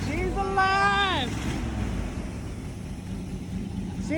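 A 1987 Chevy Silverado that had sat for six years runs at a rough low idle after starting, a steady rumble under a speaking voice and wind noise.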